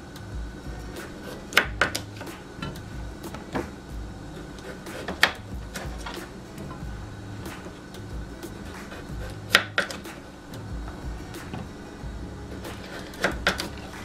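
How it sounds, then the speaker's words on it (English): A knife chops potatoes on a board in a home kitchen, giving sparse, distinct knocks: a pair near the start, then single hits and a small cluster toward the end over a quiet background hum. "what I'm gonna do is finish chopping these potatoes"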